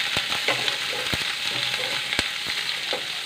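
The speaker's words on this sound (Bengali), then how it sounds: "তেল গরম হয়ে গেছে, এর মধ্যে দিয়ে দিলাম পেঁয়াজ।" Three medium onions, sliced long, sizzle steadily in hot oil in a kadai for a Hyderabadi hariyali chicken, a close, continuous crackle with occasional sharper pops and no voices.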